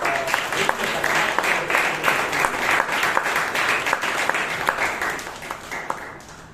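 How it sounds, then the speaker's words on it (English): Audience members at a Bangalore Toastmasters meeting give a round of applause, a dense, steady clapping that holds evenly for several seconds and then tapers off near the end. "round of applause to Pradhan, Shetty"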